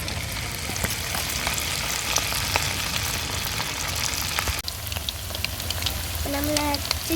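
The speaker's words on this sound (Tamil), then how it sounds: "நம்மள சிக்கன் 65 நல்லா வெந்துட்டுருக்கு." Chicken 65 deep-frying in hot oil gives a dense, steady crackling sizzle throughout, with a brief dip near the middle and a short tonal whistle-like sound near the end.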